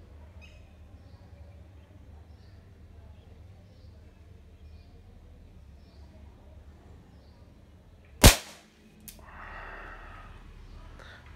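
A single loud, sharp Dan Wesson .357 revolver shot cracks out at a yellow plastic target outdoors, followed by a brief decaying echo and a soft rustle against a quiet background.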